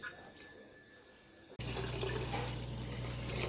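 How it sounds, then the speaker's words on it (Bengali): Water poured onto cooked rice to make panta bhat, a steady loud wash of flowing liquid that starts abruptly partway through and continues unbroken, after a quieter stretch of faint background. "ভাতে জল ঢেলে দিই নয় নষ্ট হয়ে যাবে"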